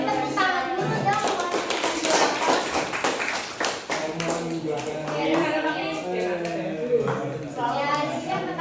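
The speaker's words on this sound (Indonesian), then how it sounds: "Kita tepuk tangan dulu dong" A classroom of students claps together during a microteaching lesson, a busy patter of hand claps mixed with children's chatter and a teacher's voice talking over it.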